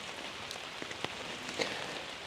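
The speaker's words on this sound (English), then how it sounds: "And it's raining." Rain falls during a walk in the Black Forest, a soft steady patter with scattered sharper drips landing close by, faint and with no voices.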